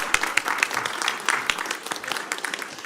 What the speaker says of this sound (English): I feel like we should clap for that.